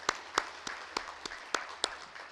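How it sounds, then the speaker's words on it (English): Scattered round of applause at a conference closing session, a few distinct, fairly sparse claps spaced apart over a quiet room, fairly faint. "if we could just give SARUP a round of applause"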